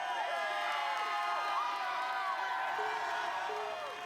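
A large American Ninja Warrior crowd cheers for competitor Enzo, with a dense, steady roar of shouts, whoops and high children's voices filling the arena throughout.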